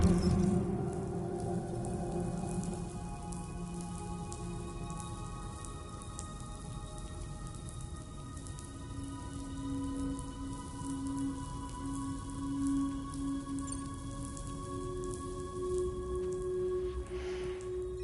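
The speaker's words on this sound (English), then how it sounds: "Those raindrops are falling on my head. They keep falling." Rain falling in the video game Death Stranding 2, a steady soft patter of drops spread under sustained musical tones, fairly quiet and continuous throughout.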